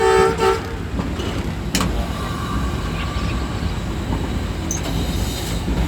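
A Pakistan Railways Green Line passenger train rolls along the ML1 main line toward Lahore, with continuous low rumble and clatter of wheels on track, a brief horn toot near the start and occasional squeals over the steady rolling noise.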